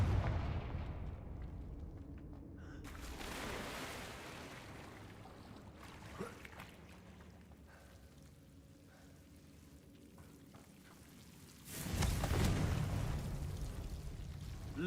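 Confringo explosive spell in Hogwarts Legacy, booming blasts and rumbling debris, one burst at the start and another loud eruption near the end, over a low ambient background.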